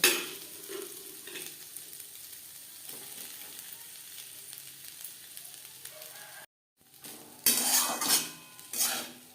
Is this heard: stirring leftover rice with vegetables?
yes